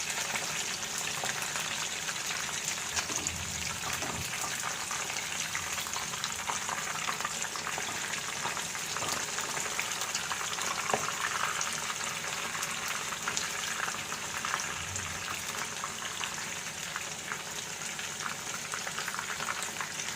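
Chicken pieces for chicken Manchurian fry in hot oil with a steady, dense sizzle and bubbling that holds evenly throughout, close and uninterrupted.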